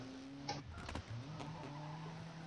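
Rally car from the video game WRC 5 pulling away with a steady engine drone, a brief tyre skid partway through, heard up close without any talking.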